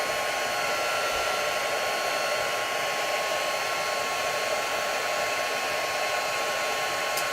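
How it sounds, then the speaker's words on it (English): Heat embossing tool blowing hot air in a steady, loud, continuous whoosh like a hair dryer, running alone without pause for several seconds. "I'm just trying to keep my heat tool moving so it's not like on one area for too long"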